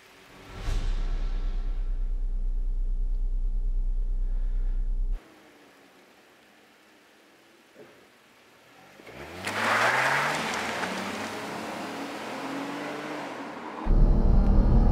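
A Lexus IS250/IS350 with automatic transmission doing a launch. A steady loud engine drone cuts to near silence, then the engine revs up with rising tones and the car pulls away. It ends with another loud rumble.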